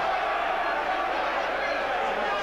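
A football crowd at Griffin Park during the 1988 Brentford v Port Vale match makes a steady, even roar and murmur with no sharp peaks, and a voice talks over it.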